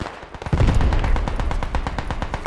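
Machine-gun fire in the World War II shooter Squad 44, a dense run of rapid sharp shots that starts after a brief pause and keeps hammering steadily, loud and close, with no talk over it.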